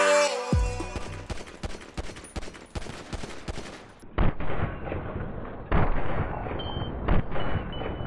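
Gunfire in the GTA RP roleplay video game: dense, loud volleys of rapid shots and booming blasts after a brief tonal sound at the start, with no talking.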